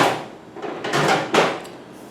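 A ball peen hammer strikes a bicycle bearing cup during a DIY bottom bracket and headset press job, giving a few sharp metallic knocks close to the microphone.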